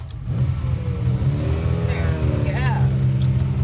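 A 12-cylinder car engine holds a steady, loud idle-to-rev drone close by, swelling slightly as it's revved, with people talking over it.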